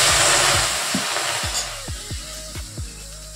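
A spoonful of water hits a hot pan of palm jaggery and gives a loud, hissing sizzle that fades steadily over about three seconds, with a series of low, descending bubbling pops underneath.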